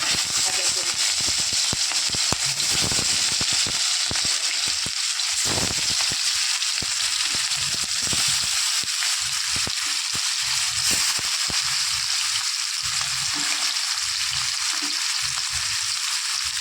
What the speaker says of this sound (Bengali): মাছের তেল ভালো মতো গরম হয়ে গেছে এবার দিয়ে দেবো এক এক করে মাছ